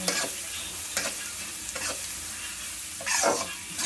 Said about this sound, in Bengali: এবার এটা ভাজতে থাকুক এটা একটু ভাজা ভাজা হলে